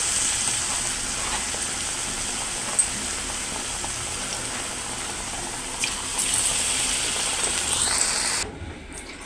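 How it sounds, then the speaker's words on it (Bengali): Battered eggplant slices frying in hot oil give a steady, close sizzling hiss that holds constant for several seconds, then cuts off near the end; no talking. "তেল আমার গরম হয়ে গেছে, এখন আমি একটা একটা করে দিয়ে দিব।"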